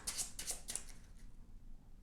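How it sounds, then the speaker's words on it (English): Game cards being shuffled during a tabletop board game session, a soft, quiet rustle of riffling and sliding cards lasting about two seconds with no talking. "So we will shuffle these in."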